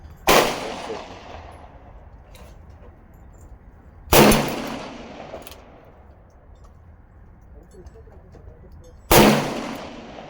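Colt Kodiak .44 Magnum revolver fired three times outdoors, each shot a loud, sharp crack with a ringing, echoing tail, spaced about four to five seconds apart.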